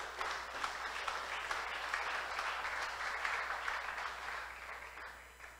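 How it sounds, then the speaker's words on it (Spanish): Congregation at a Christian church service applauding, a dense, steady wash of many hands clapping that holds at even loudness throughout, with no voices over it. "Dale un aplauso al Rey."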